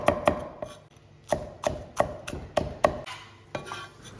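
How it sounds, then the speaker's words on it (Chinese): A kitchen knife chops scallion, ginger and garlic into slices on a cutting board, a run of sharp, close, irregularly spaced knocks with short pauses, no voices. "再切上一些葱姜蒜片"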